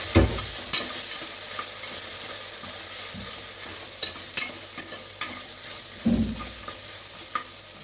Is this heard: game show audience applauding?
no